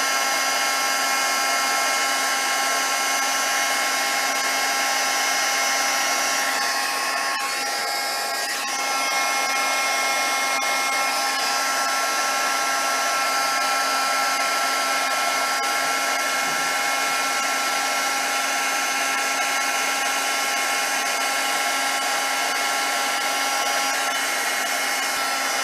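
A heat gun runs continuously for heat embossing on a handmade card, a steady close whirring blow with a constant tone and a brief dip partway through, no talk.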